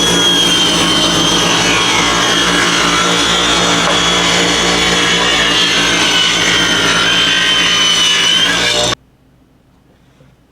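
Wooden boards being cut with a power saw, a loud, close, sustained high-pitched whine with steady cutting noise that stops abruptly near the end, followed by a quiet room.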